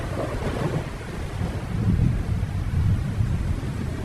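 Rain falls in a cartoon jungle, a steady wash of noise with low rumbling swells like distant thunder and gusts, no voices.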